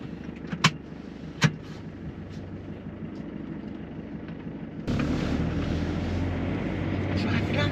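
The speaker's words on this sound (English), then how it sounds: "Driving out of Lisbon at rush hour is an absolute nightmare." A camper van drives through rush-hour traffic in Lisbon, with a steady engine and road rumble close by that grows louder halfway through, and a couple of brief clicks or knocks near the start.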